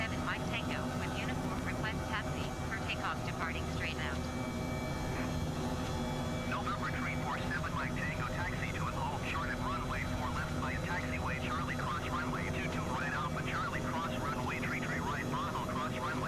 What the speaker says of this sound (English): Helicopter sounds really weird.